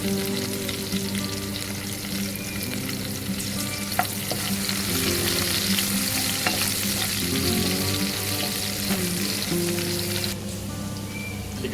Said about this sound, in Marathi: इकडे लसूण आणि मिरची टाकलेली आहे तर आपण फ्राय करून घेऊया